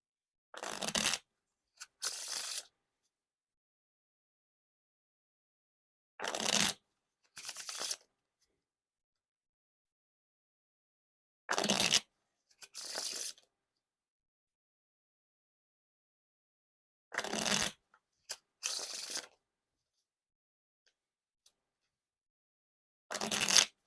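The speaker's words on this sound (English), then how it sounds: "Now onto the riffle shuffle or bridge shuffle." Riffle shuffles of Bicycle playing cards repeat about every five seconds, each a quick crisp burst of flutter followed by a short bridge, with silence between.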